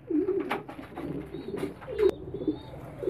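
A large male pigeon gives low, throaty coos in short repeated bursts, close by, with a few faint rustles and clicks around it and no voices.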